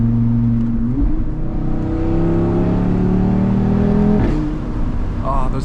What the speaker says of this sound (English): This is what it would sound like if it was, you know, a louder OEM sports exhaust